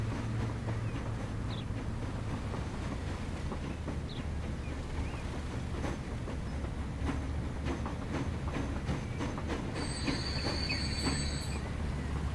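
A train pulls out of a station in the railway simulation game Transport Fever 2, a steady low rumble of rolling wagons with faint clatter and a brief higher squeal near the end, heard alone without talk.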